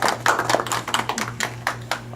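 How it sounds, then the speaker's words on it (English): A small craft-night group gives a round of applause, a few people clapping in an uneven, sparse patter close by over a low background hum. "Let's give her a nice round of applause for sharing with us."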